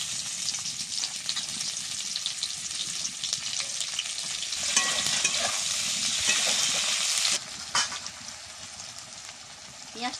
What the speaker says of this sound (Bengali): পেঁয়াজটা দিয়ে দিচ্ছি তেলে।